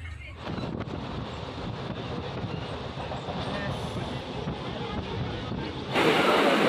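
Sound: commuter train at a station

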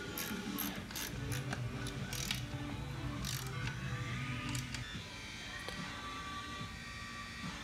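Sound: tightening motorcycle oil drain plug

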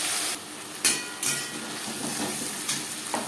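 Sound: garlic, onion, ginger and green chilli paste frying in oil

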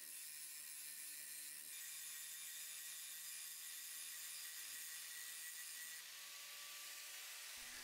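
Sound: cleaning welds on iron shelf

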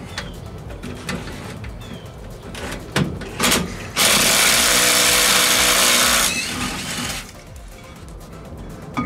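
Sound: power tool with socket removing VW Beetle brake caliper bolts

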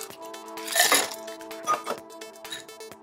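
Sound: ice cubes filling a glass

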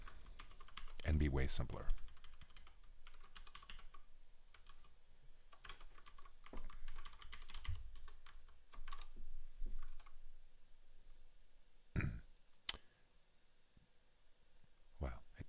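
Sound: typing on a computer keyboard

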